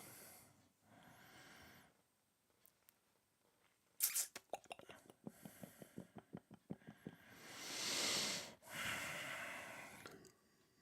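Long, drawn-out breathy yawns swell loud and close late at night, along with snorting breaths and a run of quick rhythmic puffs in between.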